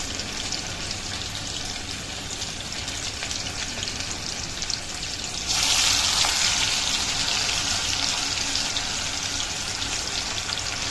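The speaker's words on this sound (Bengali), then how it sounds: "এটা ডিপ ফ্রাই হবে" Cauliflower pakora deep frying in hot oil, a steady broadband sizzle that surges louder midway as more battered florets drop in, close and continuous with no talking.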